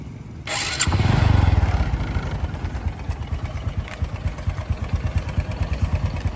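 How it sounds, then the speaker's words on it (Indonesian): A 2006 Honda Supra X 125 motorcycle before restoration starts with a sharp starter whir and catch, then settles into a close, loud, steady idle with a rapid putter. "jadi suara mesinnya kayak gini ya guys"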